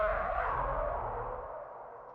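Unprocessed high layer of an alien dragon roar built from squeaky dog toy sounds: one sustained, bright, harsh squealing tone with a strong low rumble underneath, held steadily and slowly fading, loud and close with no talk.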